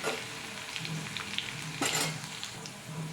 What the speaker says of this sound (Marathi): लसूणच्या पाकळ्यांना मी कुटून घेतलेल्या आहेत, छान त्या टाकते आहे मी